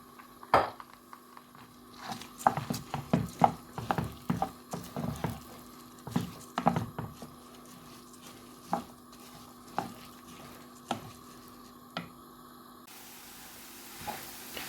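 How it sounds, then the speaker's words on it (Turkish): Rice sizzles in hot oil in a pot while a spoon scrapes and stirs it in irregular clinks and knocks, fairly close and quiet, thinning to sparse taps and a soft hiss toward the end. "Yağımız ısındı arkadaşlar. Pirincimizi de ilave ediyorum."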